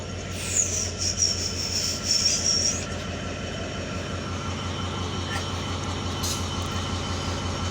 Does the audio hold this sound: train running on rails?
yes